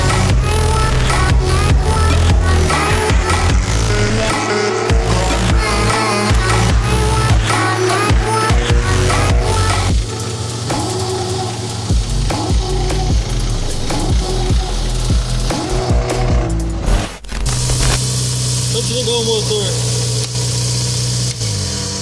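A SuperKart Skyline kart engine fires up and runs on a city street, a loud buzzing engine drone that revs and shifts pitch continuously, with people talking over it throughout.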